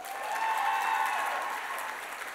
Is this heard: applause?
yes